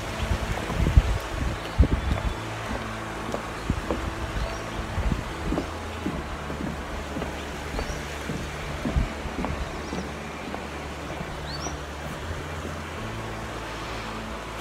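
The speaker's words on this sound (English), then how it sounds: "I don't know if you can hear the creek in the background there." A mountain creek runs outside a secluded property in Crestone, Colorado, a faint steady wash of water under scattered low thumps and rumbles, with no talk.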